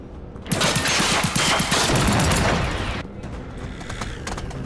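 Robots firing in a video game: a dense burst of rapid gunfire rattles loud and close for about two and a half seconds, then drops to a quieter stretch of scattered shots and rumble.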